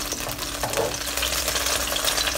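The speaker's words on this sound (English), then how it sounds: "We're going to fry the eggs now." Beaten eggs sizzle and fry in hot oil in a wok, cooked before rice, chicken and salted fish go in for fried rice; a steady close crackle with light stirring scrapes runs throughout.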